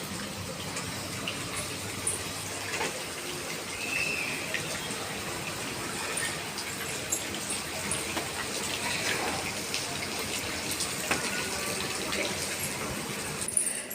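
Heavy rain pouring down outside a home, a dense continuous hiss and splatter at moderate level, steady throughout with no talking.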